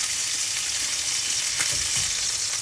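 Sesame-crusted ahi yellowfin tuna sears in a hot pan with a steady, close sizzle and crackle that runs the whole time, with a few louder spits partway through and no voices.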